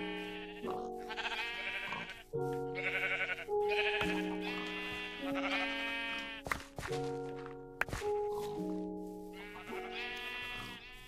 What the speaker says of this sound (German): Was macht denn das blöde Schaf da oben?